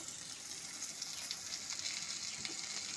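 Onion, garlic and ground garam masala fry quietly over medium heat in a pan for a cabbage and fish-head dish. A low, even sizzle runs throughout, with faint stirring ticks.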